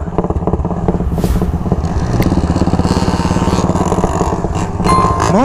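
A motorcycle fitted with a truck exhaust revs hard and close, its loud, throaty engine pulsing in a rapid, continuous rumble with a few clattering sounds over it.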